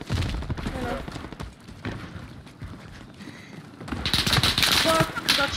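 Rapid video game gunfire crackles in dense bursts during a trios match, growing louder and sharper toward the end, with players talking over the shooting.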